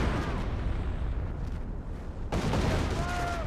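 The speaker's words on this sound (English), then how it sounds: "So the artillery barrage is scouting pretty wide" An artillery barrage pounds the battlefield in Company of Heroes, rumbling booms and blasts rolling almost continuously, thinning for a moment before a heavy, sudden impact brings renewed loud explosions.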